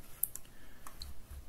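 A computer mouse clicks while someone works in CAD software modelling a gimbal stand. A few sharp, quiet clicks are spaced apart over faint background noise.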